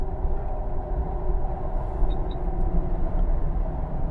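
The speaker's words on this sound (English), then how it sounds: "Get a little noise from those knobby tires, but that ain't bad." Knobby off-road tires on a 2004 Jeep Wrangler Rubicon two-door with Pro Comp modifications, producing a steady low rumbling road roar that stays even and loud throughout, with no talking.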